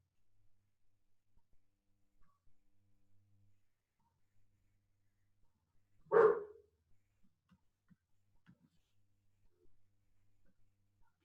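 A dog gives a single loud, sharp angry bark, standing alone against an otherwise quiet indoor background with faint scattered noises.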